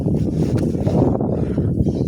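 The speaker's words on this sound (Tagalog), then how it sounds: "So, parang mahangin, oh." Steady wind buffets the microphone with a constant low roar, rumbling throughout without pause, at a fishing spot.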